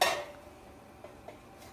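A metal pot lid is set onto a pot of boiling salted water holding lobster: one sharp clank right at the start, then a couple of faint small clicks against a quiet background.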